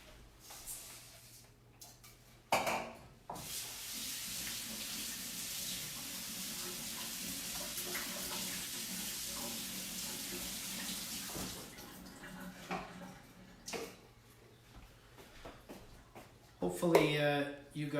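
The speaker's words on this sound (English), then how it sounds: "So what we got to do first, wash the rice. So just a quick rinse." Tap water runs steadily onto brown rice being rinsed in a kitchen sink for about nine seconds, a close hissing stream, with soft handling clatter before and after.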